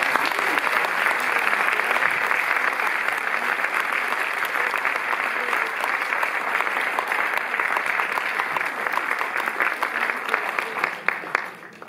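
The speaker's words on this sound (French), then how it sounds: "On applaudit Catherine Fro." Audience applause after a film presentation at a Paris cinema, dense sustained clapping from a large crowd that holds steady for the whole stretch and thins slightly at the end.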